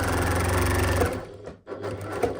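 A sewing machine stitches a seam on a drawstring gift bag, running steadily and loud at close range, then pausing briefly before restarting for a short backstitch. No one speaks over it.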